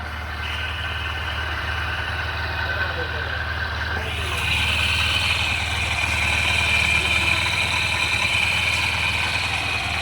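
A repaired SP 125 motorcycle engine idles steadily nearby, its low chug rising slightly halfway through, with people talking over it.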